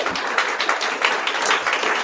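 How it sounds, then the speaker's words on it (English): Applause from a live event audience on drug decriminalization in Oregon: a steady, dense wash of many hands clapping continuously at moderate loudness, with no voices over it. "Everybody clap for PPS for putting on this event."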